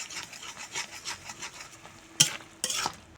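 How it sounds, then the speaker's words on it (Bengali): Ground spice paste with a little water being stirred and sautéed in a pan for a bean (shim) dish, a steady scraping, rubbing rhythm up close with two sharper, louder scrapes near the end. "এখন অল্প জল দিয়ে মশলা ভালো করে কষিয়ে নেব।"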